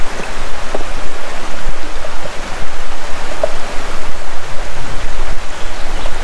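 River water flows and splashes in a rocky stretch with bedrock, a loud, steady rushing wash with slight surges, near and continuous.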